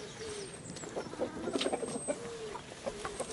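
Hens in a backyard run clucking and calling while being fed a handful of mixed corn, with a rooster among them; soft repeated clucks and short calls at moderate distance, no talking.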